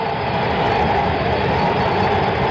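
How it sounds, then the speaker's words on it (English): A BART train pulls up beyond the center field bleachers at the Oakland stadium during a 1974 World Series game, a steady loud rumble and rolling roar that runs without a break. "The new BART train transportation system here in the Bay Area has been pulling up beyond the center field bleachers"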